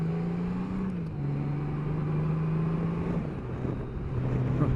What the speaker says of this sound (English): Just give it a bit of rev.